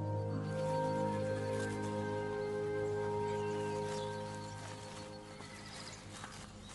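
Dülmen wild horses from Germany neigh in a long, close, tonal whinny that fades, followed by lighter snorts and soft movement, with no talk.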